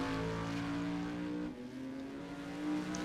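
A 6.2-liter V8 race car engine in a GT4 America racing video game at Long Beach holds a loud, steady, buzzing drone at high revs, with a brief dip midway before it climbs again. No one speaks.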